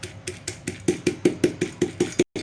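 Chopped hot green chillies pounded in a mortar, about a dozen steady rhythmic thuds that grow slightly louder, close and clear with no talking.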